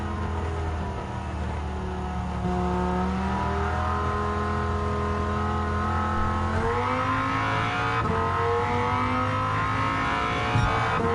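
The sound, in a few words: Dodge Viper GTS engine racing in video game Gran Turismo 7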